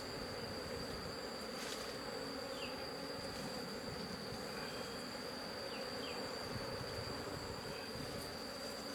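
Honey bees swarm and buzz steadily around an opened hive foraging on eucalyptus blossoms, a dense continuous drone close to the microphone with no voices.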